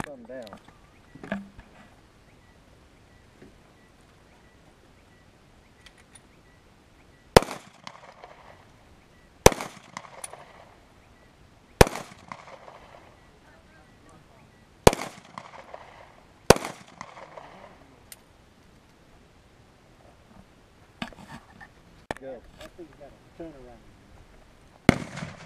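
A Thompson submachine gun fired outdoors, sharp loud single reports spaced a few seconds apart, with fainter trailing cracks and people talking quietly between shots.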